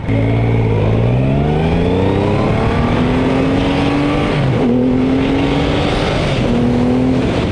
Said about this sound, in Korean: 이렇게 잘 나가고 잘 쓰고 웅장한 배기음을 선사해주는 바이크